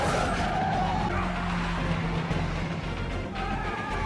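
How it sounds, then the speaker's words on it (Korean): Cars skid with tire squeal during a movie car chase, with engines roaring and tires scraping loudly and continuously. "추격해오는 차량. 잭은 속도를 줄인 채 차량들을 먼저 보내려 하지만 갑자기 공격을 당하는 잭 일행"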